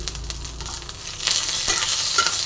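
Curry leaves crackle and sizzle in a hot pan, a close, steady frying hiss with a few stirring scrapes over a short stretch.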